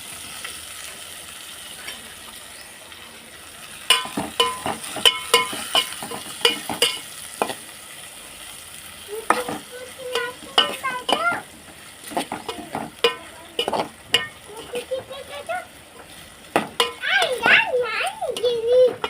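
Chopped fresh okra fries in oil seasoned with asafoetida, the sizzle and crackle broken by stirring clatters as children's voices chatter and play nearby.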